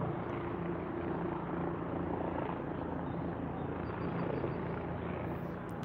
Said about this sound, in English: Look at that helicopter up there. That's what's making the noise.